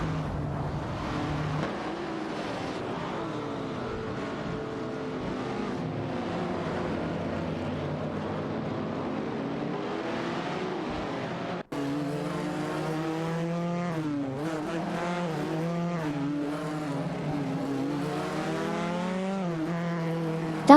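Chevrolet Corvair and Alpine 1800s race cars in a video game, engines droning and rising in pitch as they battle side by side, a steady continuous roar with shifting revs throughout.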